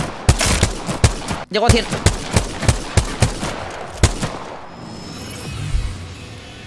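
Rapid gunfire in the shooter game Apex Legends, a string of sharp evenly spaced shots that thins out near the end, with someone talking briefly over it.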